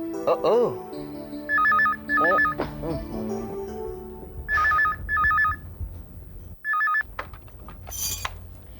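A telephone rings in repeated double bursts in a home bedroom. Voices speak between the rings, and a small clatter is heard near the end.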